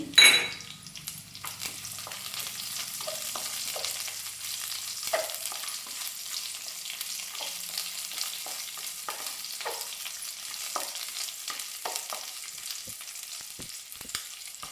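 Green chillies frying in a pan for a Malabar spinach dal, opening with a loud burst of sizzle as they hit the oil, then a lighter steady crackle with scattered pops and small utensil touches.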